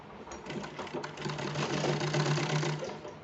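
Sewing machine stitching a seam on a small child's kurta made from leftover cloth, a continuous close whirring run of rapid stitches without pause.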